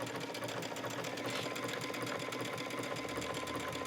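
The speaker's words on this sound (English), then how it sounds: "Just take it to the sewing machine and then do these stitches" A sewing machine runs steadily, stitching knit fabric with its needle in a fast, even rhythm throughout.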